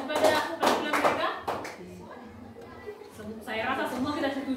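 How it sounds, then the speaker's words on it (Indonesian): A school class claps for a student group performance, a brisk burst of close hand claps that fades as voices talk, followed by a few more scattered claps. "sekali lagi berikan tepuk tangan"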